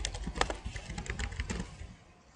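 Rapid computer-keyboard typing as supplier details are entered, a close, irregular run of crisp key clicks that slows and fades toward the end.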